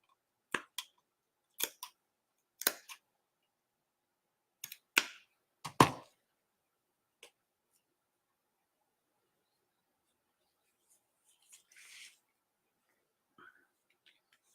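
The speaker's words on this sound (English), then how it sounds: "take your scissors and just cut like a little U" Several sharp snips of scissors cutting through fur fabric, close and crisp, in a quick series, followed by quieter rustling and a few faint clicks.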